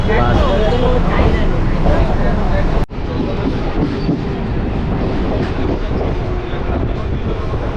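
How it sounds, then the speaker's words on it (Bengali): A train rumbles and clatters steadily along the rails arriving at a station, with a brief cutout partway through and people talking under the noise. "ট্রেন প্রবেশ করলো"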